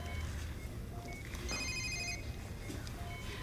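A telephone rings in a room, a short electronic ring rising above a steady background hum and then fading, with no voices over it.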